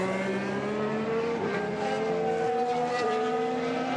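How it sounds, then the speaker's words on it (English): A Formula 1 car in the F1 2016 racing game, running on Supersoft tyres before a sudden tyre failure, gives a loud, steady engine whine with shifting pitch and faint tyre squeal throughout. "Striking without warning, the tyre failure dramatically retired him from the race."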